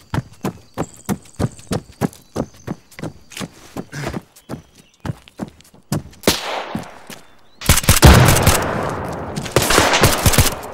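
Enemy soldiers fire at the player in the military shooter Arma 3, a long run of evenly spaced single rifle shots that swells into a loud, dense burst of overlapping gunfire near the end.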